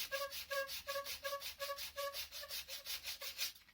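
Quiet, rhythmic sanding: short back-and-forth rubbing strokes repeat about twice per second, close up.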